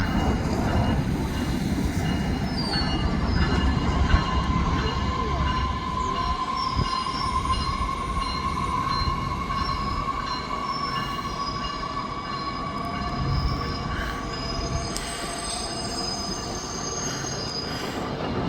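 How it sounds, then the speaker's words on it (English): A Metra Electric commuter train rumbles steadily past in Chicago for a long stretch, wheels grinding and squealing on the rails, with a continuous metallic whine throughout. "here comes another Metro Electric train heading back to Millennium Station"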